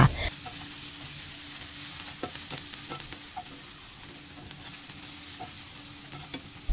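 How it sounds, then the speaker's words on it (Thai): Meat stir-fried in hot oil with golden fried garlic gives a constant close sizzle, punctuated by sharp clicks and scrapes of the spatula stirring in the pan. "พอผัดกระเทียมเหลืองหอมแล้วเราจะใส่เนื้อสัตว์ลงไปค่ะ"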